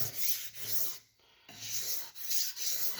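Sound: knife being sharpened on a sharpening stone

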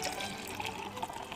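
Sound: hard pour of Hard Mountain Dew Watermelon into stemware

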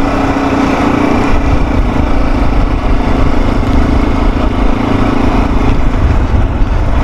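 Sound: RX3 motorcycle engine while riding

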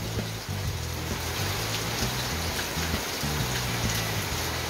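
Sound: heavy rain without thunder

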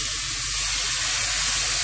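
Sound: water added to a hot cooking pan for chicken korma

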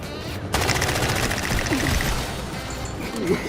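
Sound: gunfire from a recoiling gun in the video game Delta Force

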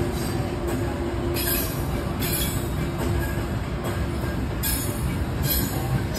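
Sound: train riding

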